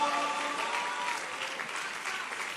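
A church congregation applauding loudly and continuously, a dense crowd of clapping hands with faint voices and a lingering musical tone underneath.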